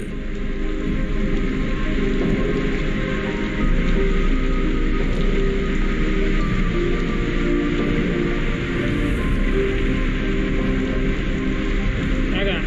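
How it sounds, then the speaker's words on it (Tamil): A severe hailstorm batters Moncalieri, Italy, producing a loud, steady, dense roar of ice striking surfaces that continues without pause. "ஜூன் 7 அன்று கடுமையான ஆலங்கட்டி மழை இத்தாலியாவில் மோன்ஹலீரியை அரைத்தது."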